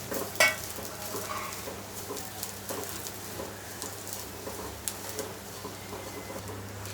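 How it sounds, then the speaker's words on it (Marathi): Onion and grated coconut roasting in a pan for a Malvani-style bhaji curry make a soft, steady sizzle, with quiet intermittent scrapes and clinks of stirring and one sharper knock near the start. "इथे आता आपलं कांदा खोबरं व्यवस्थित भाजत आलंय।"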